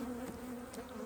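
Honeybees buzz during a March beehive inspection, a faint, steady drone heard briefly and alone.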